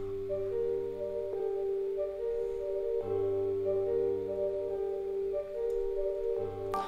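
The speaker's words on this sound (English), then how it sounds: "Next sound we got is these bells from Omnisphere," Omnisphere bells slowed by a halftime effect and shaped with EQ ring out in a repeating pattern of sustained, chiming tones, with a new strike every second or so, playing alone and fairly loud.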